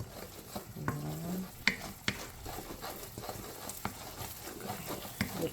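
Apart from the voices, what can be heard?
onions and garlic frying in pan for chicken pastil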